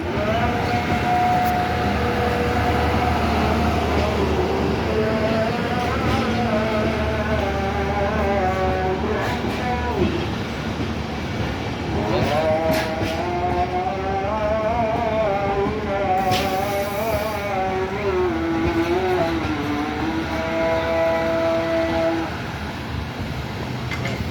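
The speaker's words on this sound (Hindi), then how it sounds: "क्वेटा से आने वाली 4 don Bolan mail much railway station पे अराइवल कर रही है।" The Bolan Mail passenger train arriving at Mach railway station in Pakistan, a loud steady rumble of wheels and carriages rolling close by with squealing brakes and metallic tones rising and falling throughout.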